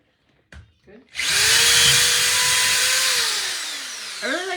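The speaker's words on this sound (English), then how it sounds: "I really like drilling things" A power drill spinning up after a few brief voices, a loud steady whine held for about three seconds, then winding down as speech returns at the end.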